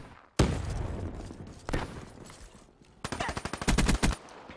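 Rapid automatic gunfire from a weapon in the Black Ops 3 video game: a loud opening blast, a second shot, then a fast burst of close, punchy shots near the end.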